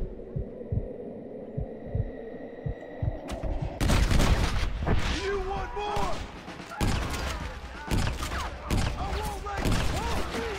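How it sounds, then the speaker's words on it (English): A pump shotgun fired in Red Dead Redemption on Xbox 360. A low, throbbing heartbeat-like pulse gives way to several loud, sharp blasts spaced a second or more apart over a droning game background. "use the pump shotgun"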